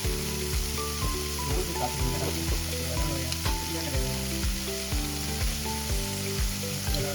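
Vegetables sizzle steadily in a hot pan, all added at once, giving a loud, continuous frying hiss over a low background drone, close and with no talking.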